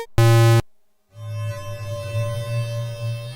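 A reversed reverb effect from a Qu-bit Aurora Eurorack spectral reverb module: a short loud tonal burst, a brief gap of silence, then a sustained wash of swelling, smeared tones with a droning low hum that fills the rest of the clip.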